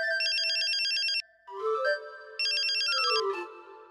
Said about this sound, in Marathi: आला फोन,